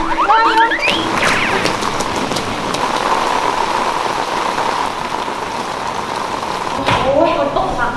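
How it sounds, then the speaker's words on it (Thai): Heavy rain falls steadily near a school, a dense loud patter on surfaces that continues throughout, with brief voices at the start and end. "ฝนตกฝนตกเนี่ย"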